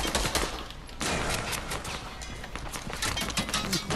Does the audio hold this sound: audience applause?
no